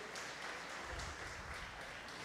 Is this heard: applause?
yes